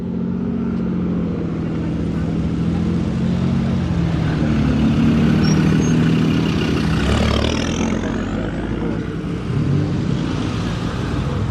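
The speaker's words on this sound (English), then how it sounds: "Oh, listen to that engine." A car engine runs close by with a steady rumble, swelling briefly as it revs, over faint background noise.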